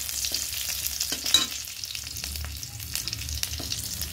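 Garlic frying in oil in a home kitchen pan, a steady close sizzle with occasional stirring scrapes and crackles, no talking.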